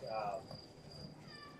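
Crickets chirping in a thin, steady high trill that carries faintly through a short stretch of quiet outdoor air, with a soft voice-like murmur near the start.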